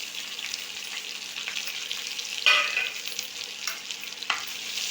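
Onions fried in a pan with cinnamon, cloves and cardamom for a chicken kola urundai dish, giving a steady close sizzle with stirring scrapes and a sharper burst of frying midway.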